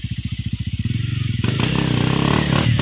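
Motorcycle engine on a hilly trail ride, a throbbing idle with a steady pulsing beat that swells into a louder, rougher revving roar with clattering and rattling, close by.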